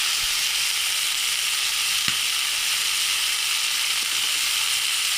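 Green chillies go into a spice paste that has been fried down until the oil separates, for a Ramadan curry of drumsticks with potatoes; a steady, loud sizzle and frying hiss runs throughout with one brief sharp tick near the middle.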